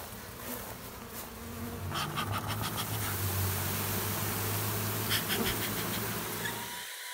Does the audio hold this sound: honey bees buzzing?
yes